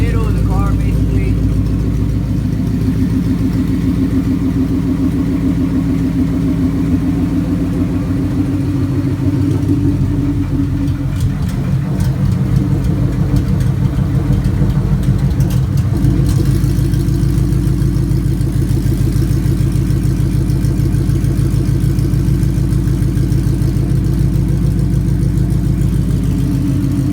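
A loud, deep sports car engine, a Ford Mustang GT500, idles steadily, then revs briefly with a rough rumble before settling back to a low, throaty idle.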